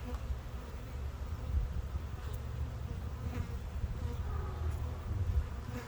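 Honey bees buzz steadily around a hive, a faint, dense, continuous drone with a few louder passes from nearby bees.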